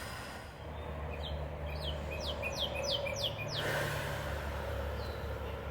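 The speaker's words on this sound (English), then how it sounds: "I love the birds in the morning." Morning birds sing in short descending chirps and trills, a rapid run of notes rising over a low steady background hum, fairly quiet and slightly distant.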